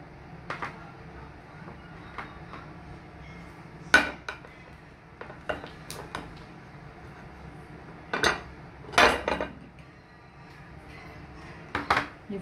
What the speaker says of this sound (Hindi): अभी मैं इसको दूसरी डिश में रख देती हूँ।